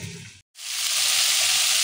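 Bori lentil dumplings, already fried, and vegetables frying together in a pan for Bengali sukto; after a brief silent gap a loud, steady, close sizzle fills the rest of the clip.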